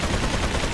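Dense, loud gunfire in Resident Evil 4, a continuous burst of rapid shots filling the brief moment with no pause between them.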